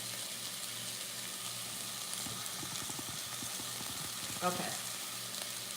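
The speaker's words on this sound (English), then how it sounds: "we're just going to saute the celery and the onions" Celery and onions sauté in a pan for broccoli nacho cheese potato soup, giving a steady, even sizzle throughout, with a single brief spoken word over it.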